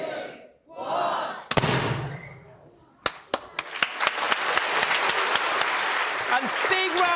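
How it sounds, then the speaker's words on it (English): A studio audience cheers and shouts, then breaks into loud applause with a few sharp, distinct claps. The clapping builds into a dense, sustained ovation that carries through to the end. "big round of applause for PE teacher Chris"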